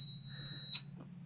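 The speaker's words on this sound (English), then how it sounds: "That beeping is coming from the REM pod." A REM pod paranormal detector gives off a steady high electronic tone that cuts out after a short burst, with a low hum running underneath throughout.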